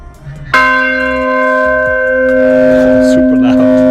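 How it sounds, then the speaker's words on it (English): A big church bell in Sofia, Bulgaria, one of a set that includes a bell from the 9th century, struck once very loudly up close, its deep tone ringing on steadily with faint background activity. "The oldest bell here dates from the 9th century."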